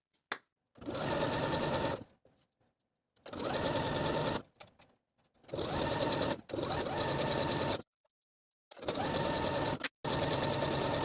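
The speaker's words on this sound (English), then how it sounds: "I'll take this to the sewing machine and sew my neckband in place" A sewing machine whirs in several bursts of stitching a neckband onto knit fabric, each a few seconds long, separated by short quiet pauses.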